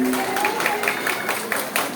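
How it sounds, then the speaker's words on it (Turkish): Applause in a wedding hall, with a crowd clapping loudly and continuously for a couple of seconds in a dense, steady patter, a few voices faintly audible beneath. "Kuvvetli yeni bir alkış alalım bakalım alkışları görelim"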